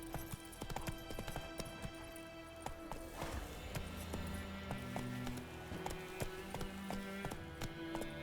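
Horse hooves clip-clopping in a rapid, steady gallop rhythm in the video game The Witcher 3, sounding close and continuous over ambient background music.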